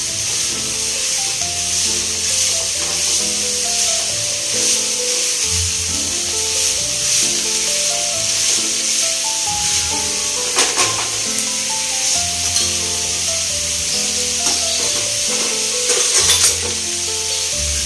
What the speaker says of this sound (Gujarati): તેલમાં થોડી વાર તળવા દે કોબી